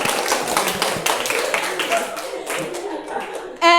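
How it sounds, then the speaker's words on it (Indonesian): A school class claps hands together in a classroom, a fairly dense burst of clapping that thins out toward the end, with a voice speaking over it and a brief louder sound at the close. "Tepuk tangan untuk kalian semua"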